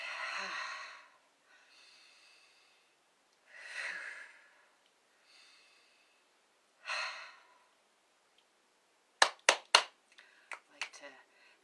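After several slow, breathy exhales, a quick run of sharp hand claps and snaps rings out close by, loud and crisp.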